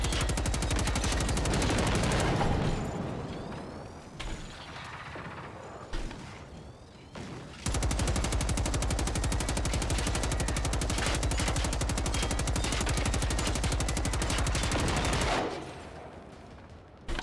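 Sustained automatic gunfire from the video game Generation Zero, a long steady stream of rapid shots that drops off briefly, resumes at full loudness for about eight seconds, then cuts out near the end.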